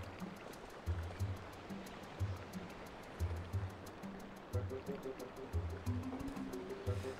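A waterfall in Zelda: Twilight Princess gives a continuous rushing stream of water, fairly quiet and constant, under a pulsing game music bed with regular soft beats.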